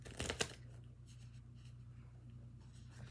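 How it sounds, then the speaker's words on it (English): A quick burst of tarot cards being shuffled near the start, then only a low steady hum for the rest. "Can I shuffle again, please?"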